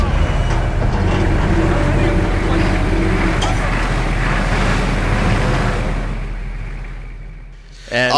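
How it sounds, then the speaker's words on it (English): Aircraft engines roar in the video game Splinter Cell Conviction during an airlift, a loud, dense steady rumble that swells, then gradually fades and thins toward the end before a sudden burst of noise. "We got the engines lit, okay?"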